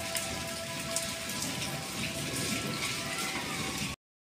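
Heavy rain falls in a steady, dense hiss of close drops pattering on surfaces, then cuts off abruptly near the end.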